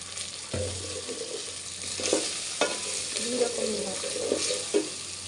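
Beef fries in a pan after chilli powder goes in, a quiet sizzle broken by a few sharp spoon knocks and stirring scrapes, with faint low murmuring in the background.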